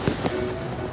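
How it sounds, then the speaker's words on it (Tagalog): A firecracker bursts sharply twice over a steady, noisy background, each pop brief and fairly close. "Paputok?"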